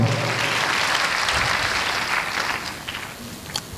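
A large audience at a direct-selling company's recognition event gives a burst of dense, loud applause that slowly thins out, with a few scattered claps and faint voices near the end.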